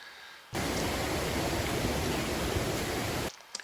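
A flooded stream on a wooded trail in Saguenay, swollen after heavy rain, roars in a dense, steady rush of water. The sound starts and stops abruptly and carries no voices.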